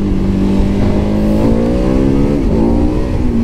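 KTM 1290 Super Adventure S (2023) pulling hard in third gear on a damp road, the engine note climbing steadily as it revs up, loud and close, alone without talk.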